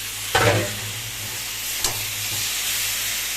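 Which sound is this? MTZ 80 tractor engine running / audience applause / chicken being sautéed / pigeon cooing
chicken being sautéed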